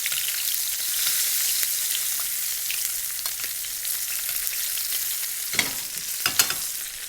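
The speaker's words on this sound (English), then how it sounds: "we want to use the oils from the pan, bath the fish a little bit" Salmon fillet frying in a hot pan, pan oil spooned over the fish, gives a steady loud sizzle throughout, with a few sharp spatters and clinks near the end; no one speaks.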